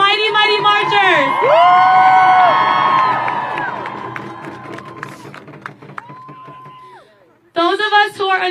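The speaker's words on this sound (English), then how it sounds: "if you can give a round of applause to our mighty, mighty marchers" An outdoor rally crowd at the Supreme Court cheers and applauds for marchers, with loud overlapping whoops and shouts that swell and then fade, followed by a fresh burst of cheering near the end.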